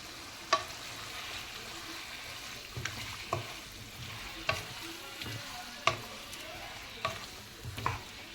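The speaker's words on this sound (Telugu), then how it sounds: "గరం మసాలా, పెప్పర్ పౌడర్, మిరియాల పొడి వేసేసి చక్కగా కలుపుకోవాలి." Curry leaf chicken stirred in a hot pan with garam masala, pepper powder and cumin powder, a steady sizzle of frying broken by periodic scrapes and clacks of the spoon against the pan, no voices.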